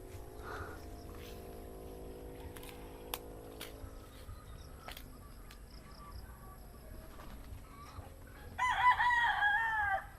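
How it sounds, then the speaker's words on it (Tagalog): Free-range chickens about four months old cluck and murmur quietly over a low background hum, then a rooster crows loudly toward the end. "kaya may mga pakawalang manok dito"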